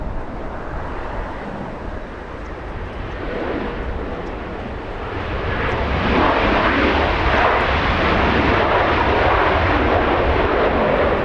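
An Alaska Airlines A321neo jet roars in on arrival at LAX, a broad steady engine rush that swells louder through the second half, with some wind buffeting and no talk.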